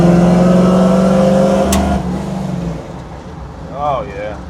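An old car with a 292 engine pulls hard in third gear, its engine note droning loud and rising before easing off, with talk partly overlapping.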